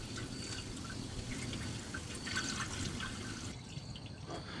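Water pours into the radiator of an abandoned 1979 Dodge D300 truck, a continuous light dripping and splashing fill that runs steadily for several seconds before a brief clunk at the end.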